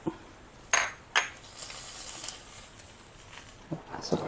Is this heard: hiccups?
no